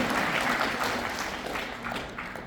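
Steady audience applause at a Korean community association lecture event, dense clapping throughout and easing slightly toward the end.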